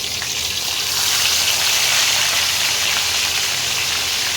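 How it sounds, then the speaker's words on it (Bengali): Fish frying in hot oil in a pan, giving a steady, loud, close hiss and sizzle that holds without a break throughout. "এবারে আমি মাছগুলো ভাজবো। মানে মাছগুলো আমি ভেজে নিচ্ছি।"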